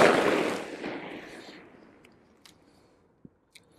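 A single loud gunshot from a 125 grain .38 Special round fired through a 340 revolver, a sharp broadband blast at the start that decays over about a second and a half, followed by a few faint clicks and taps.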